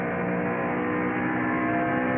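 Stock cars in a 2001 ARCA race roar around a track as a steady, dense mass of engine drone heard from a distance, continuous and unbroken with no talking.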